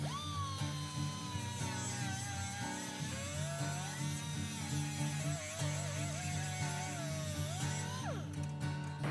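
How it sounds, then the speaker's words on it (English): A power tool cutting off a stripped bolt on a snow blower, heard as a steady, close, high whine whose pitch wavers and dips under load for about eight seconds before cutting out abruptly. "I had to cut the last bolt off"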